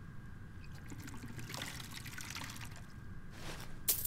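Water trickling and pouring as a drink is served to a guest at an inn, a soft, steady liquid dribble with brief splashy bursts near the middle and end, no talking over it.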